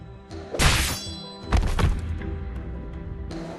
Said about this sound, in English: The gangster's headless body collapses to the ground with a thud.